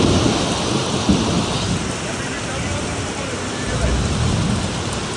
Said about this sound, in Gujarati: ફૂલ વરસાદ ચાલુ ભાઈ ધોપ માર છે